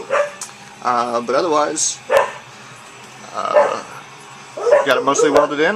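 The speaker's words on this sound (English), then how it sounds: "I apologize for the dogs barking." Dogs bark and yip in short bursts behind someone talking in a backyard shop where a patch panel is being welded into a 1973–87 Chevy C10, the barking loud and close between his words.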